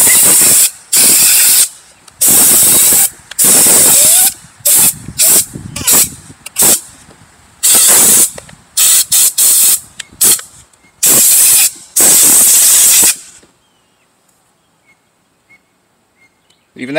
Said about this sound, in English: We're gonna give it one last blast with the air hose to make sure we've got it dried out real good.